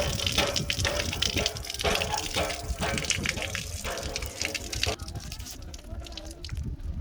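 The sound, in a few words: water pump running, water gushing out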